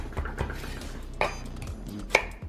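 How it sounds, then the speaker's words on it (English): A knife slicing a peeled sweet potato in half, two or three faint, sharp cuts meeting a board with small clicks, heard close and quiet with no talk. "Slice it in half."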